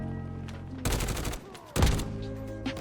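Automatic gunfire in a first-person shooter video game, two loud rapid bursts under a second each, separated by a short pause, with background game sounds around them.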